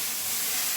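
Tomato mixture added to a hot mixed vegetable curry, a brief steady steamy hiss and sizzle, close and even, with no talk.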